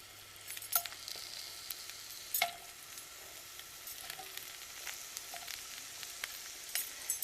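Onions sauté in melted butter in a pan, making a continuous soft sizzle broken by sharp clicks and scrapes of a spoon against the pan, close up with no talking.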